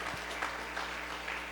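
A church congregation claps in praise, a continuous wash of applause with a few sharper accents over a low steady hum, with no voices.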